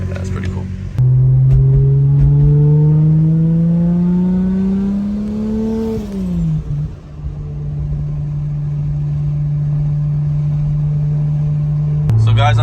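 A 1995 Toyota Supra MK4 fitted with a flex fuel sensor drives past nearby, its engine revving up steadily, easing off, then settling into a loud, even drone for several seconds before a brief final change in pitch.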